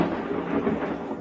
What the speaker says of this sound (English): I saw that lightning strike.